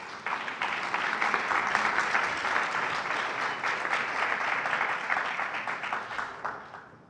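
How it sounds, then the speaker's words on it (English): Audience applause during a university's state-of-the-university address, a sustained round of clapping from a large crowd, steady for several seconds before tapering off, with no one talking over it. "That's a good applause line."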